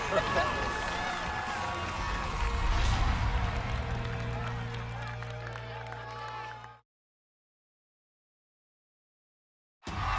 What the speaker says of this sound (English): This crowd is having a blast with us in Vegas